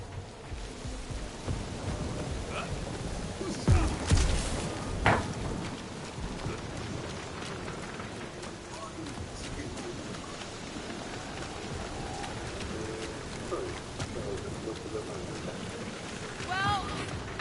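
A steady wash of rain with low thunder-like rumbles from a storm in Guardians of the Galaxy, under game voices talking, with a few louder booms early on.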